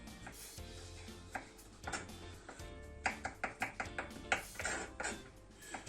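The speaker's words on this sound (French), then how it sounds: "Je vais commencer par couper mon ail en petits morceaux, tout petits morceaux" A knife chops garlic cloves into very small pieces on a board, soft at first and then a quick run of crisp, evenly spaced taps, close and quiet with no talking.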